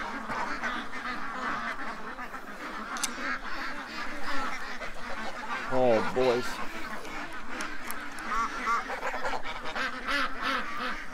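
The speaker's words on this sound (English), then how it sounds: "How loud are the geese?" Loud geese honking and squawking over a busy background, with someone speaking briefly amid the calls.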